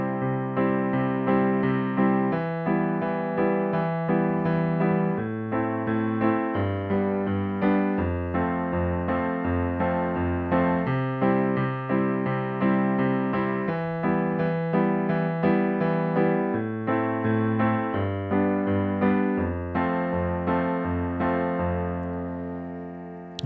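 Piano plays the verse and chorus of a song in a steady bouncing rhythm of bass notes and chords, clear and close with no voices.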